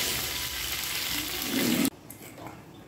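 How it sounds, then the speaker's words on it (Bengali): Whole cumin, onion and paneer fry in a hot pan with a steady, close sizzle that swells louder before cutting off abruptly, leaving quieter faint kitchen clatter. "একটু গোটা জিরে দিলাম আর একটু পেঁয়াজ। পনিরটা হালকা ভাজলাম।"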